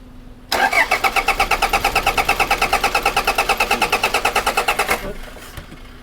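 An automatic car with a hard-starting fault cranks loudly and steadily for about four and a half seconds, a fast even chugging rhythm close by, then stops without catching.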